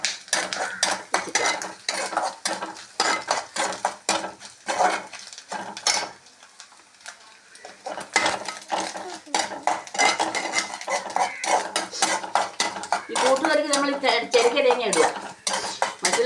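A metal spoon scrapes and clinks repeatedly against a pan as Kerala koottucurry is stirred, with a brief pause midway and faint sizzling underneath.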